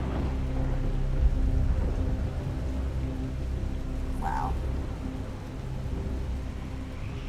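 Rain and hail from a storm in a Roblox storm-chasing game pour down in a steady, even roar, with a short spoken exclamation partway through.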